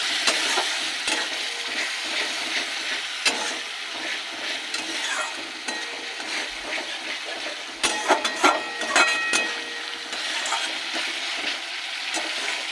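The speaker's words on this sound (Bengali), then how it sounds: "মশলাটা যাতে পুড়ে না যায় তার জন্য একটু বাটি ধোয়া জল দিয়ে দিচ্ছি।" Spice paste sizzles and fries in a pan after water from rinsing a bowl is poured in, giving a steady hiss broken by stirring scrapes and louder crackling bursts midway through.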